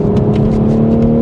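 Manual Toyota GR MKV Supra engine pulling hard through corners, a strong steady mid-pitched drone with a few brief rising bursts as revs climb, loud and close with no talk.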